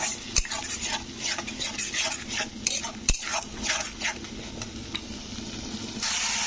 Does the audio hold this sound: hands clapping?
no